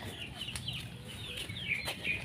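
Chickens clucking and chattering close by, short repeated calls over a soft, steady outdoor background.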